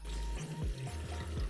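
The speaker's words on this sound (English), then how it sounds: "you can see that we are flowing water" Water flows through a 3D-printed desktop hydroponics drip system, splashing and trickling up close in a quick series of rhythmic drips and gurgles.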